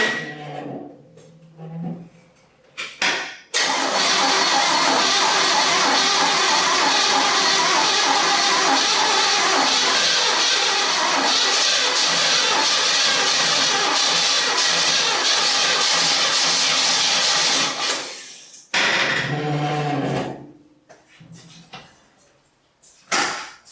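The swap meet engine in a barn-find 1967 Chevy C10 Stepside cranks and fires, then runs loud and rough for about fifteen seconds before shutting off, with a few clunks and brief voices around it.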